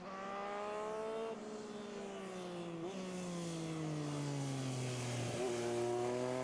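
Racing motorcycles on the Cookstown 100 road race course scream past, loud high-revving engines with falling pitch as they go by, one after another in quick succession.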